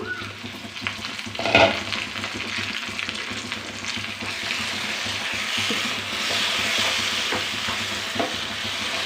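Raw mango thokku frying in oil, a steady close sizzle and bubbling that runs throughout, with a brief louder stir or clatter near the start and no talking.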